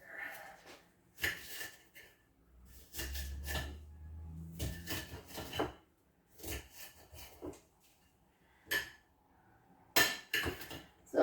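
A knife chops an onion into chunks on a board, giving a series of sharp, uneven taps in short clusters separated by pauses, fairly quiet and close.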